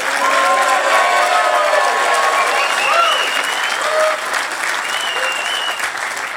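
A crowd at a welcome center dedication ceremony in West Virginia applauds loudly and steadily, with scattered cheers and whistles rising over the clapping before it gradually thins.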